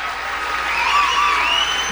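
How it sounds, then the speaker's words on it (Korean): Steady crowd applause at a Trump speech, loud continuous clapping mixed with a few shouts and cheers, sustained throughout without a break. "그 박수를 치는 소리예요."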